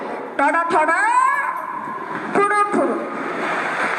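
A voice imitates a train horn with two drawn-out hooting toots, the first longer than the second, over a steady background hum.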